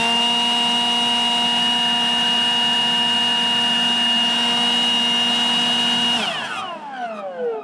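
A gas-powered leaf blower idles up close with a loud, steady whine holding one pitch, then winds down near the end as the engine note falls away.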